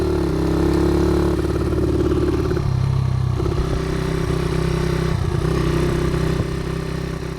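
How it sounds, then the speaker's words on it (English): A 48-year-old Honda XR75 motorcycle runs close by with a badly slipping clutch, the engine note repeatedly rising and sagging as revs flare without pulling, over a steady mechanical clatter. "Here you can hear the clutch slip pretty bad."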